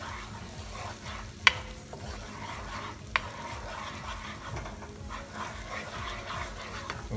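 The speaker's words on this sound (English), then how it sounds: "Saute this for some time" Garlic sautés in a pan for fish florentine with a steady sizzle and soft stirring, punctuated by two sharp metallic taps of a spoon.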